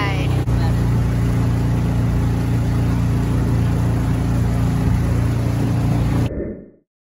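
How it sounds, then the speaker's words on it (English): A raft's outboard motor runs with a loud, steady, droning hum up close, holding constant for about six seconds before it cuts out and fades to silence. "now we're heading out with the motor"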